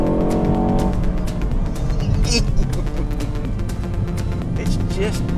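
A Ford Focus ST drives along the winding N304 road in Portugal, its engine droning steadily with tyre and road noise throughout, heard from inside the car under continuous talking.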